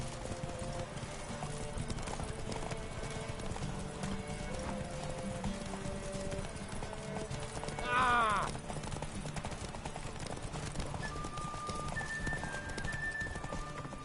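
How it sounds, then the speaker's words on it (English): Horse hooves clip-clop steadily through a video game scene, with a short neigh rising around the middle, under a continuous game soundtrack and ambient noise; a voice talks to the horse. "Whoa there, Roach."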